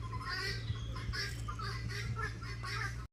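Chickens cluck in short, overlapping bursts over a steady low hum, fairly close and moderately loud throughout.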